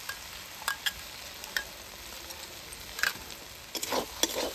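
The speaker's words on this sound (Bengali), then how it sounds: "কড়ার মধ্যে পেস্টটা দিয়ে খুব ভালোভাবে মিশিয়ে নেব" Poppy seed paste being stirred into potatoes and mushrooms in a wok, with a low steady sizzle broken by scattered soft scrapes and taps of the utensil, quiet and close.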